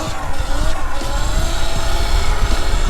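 A Sur-Ron electric dirt bike pulling a wheelie under acceleration, giving a steady, loud motor whine with rough tyre and wind noise throughout.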